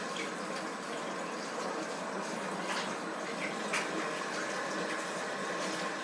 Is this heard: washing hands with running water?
yes